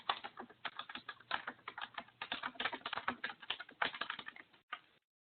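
Rapid keyboard typing while entering text into a Bluebeam Revu text box, a steady dense run of clicking keystrokes heard up close and alone, ending with a short pause and a final tap.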